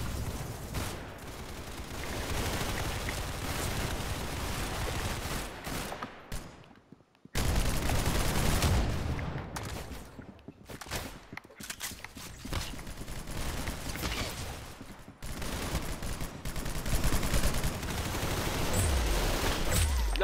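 Sustained rapid gunfire in a Roblox shooter game, near continuous loud bursts of shots for a long stretch with a brief gap, dense and close, with little talk.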